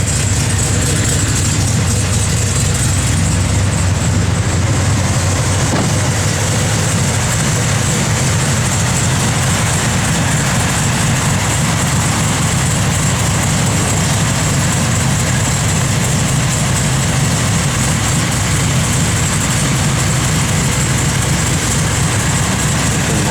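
A 1969 Chevrolet Chevelle SS sits idling, its engine giving a steady, loud, continuous rumble with an even low throb throughout and no breaks.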